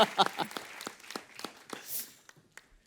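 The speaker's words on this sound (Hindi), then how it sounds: "जोरदार तालियां" A small studio audience at a comedy talk show claps in scattered, uneven bursts that taper off, fairly quiet and close by, with a brief whoosh near the end.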